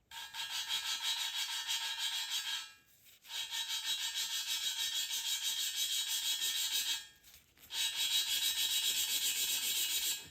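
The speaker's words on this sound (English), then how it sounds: "you keep going until the grinding sound starts changing pitch" Steady abrasive rubbing and grinding in three long bursts separated by short pauses, close and fairly loud, with a gritty, scratchy texture; an engine valve being hand-lapped into its seat during a BMW N20 engine rebuild.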